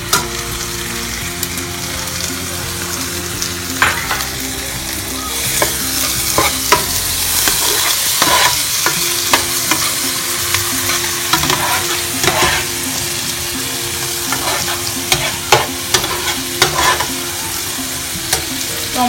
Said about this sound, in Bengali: এখন আমি আদা রসুনের পেস্ট দিয়ে দিচ্ছি